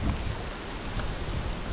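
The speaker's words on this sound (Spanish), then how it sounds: "Qué linda lluvia está cayendo." Rain falling outdoors in woodland by a stream mouth, a dense steady patter close by with no gaps and no voices.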